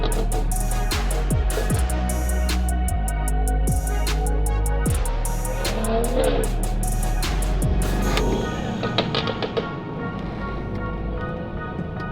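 A tuned BMW 440i with a burble tune rumbles on New York City streets, a loud, deep exhaust drone with crackles and popping bursts that fade toward the end.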